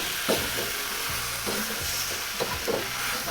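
Mushrooms sizzling and frying in a hot wok as rice wine vinegar goes in for Shanghai lo mein, with a steady close hiss and occasional stirring clatter, no talking.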